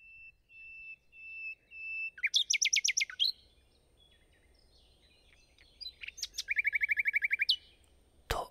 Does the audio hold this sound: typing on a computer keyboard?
no